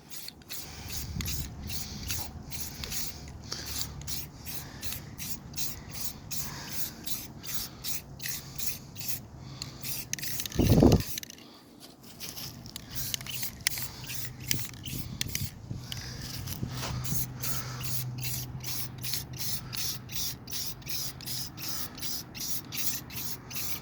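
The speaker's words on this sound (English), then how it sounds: "Today we're applying stage 4, which is applying the primer coat to this Railplate." Primer coat sprayed onto a vintage Railplate during restoration, a steady close hiss running throughout with a brief louder burst midway and short gaps between passes.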